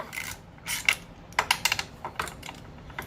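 A small 1/4 inch wrench loosens tail bolts on a Honda Monkey 125 motorcycle, producing a quick series of light metallic clicks and ratcheting ticks, close and fairly quiet.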